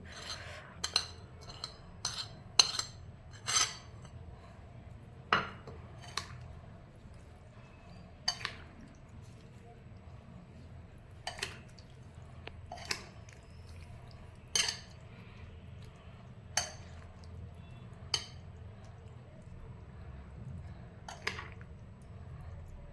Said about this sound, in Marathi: आपण आता हा उरलेला मसाला जो आहे तो आपण यात घालतोय